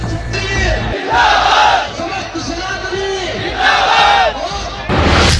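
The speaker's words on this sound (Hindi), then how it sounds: "हाथों में तलवार, सर पर साफा, उमड़ा भीड़ का सैलाब" A surging crowd of Karni Sena protesters in Agra, carrying swords and wearing turbans, shouts in loud rising waves of massed voices and chanting, close and overwhelming.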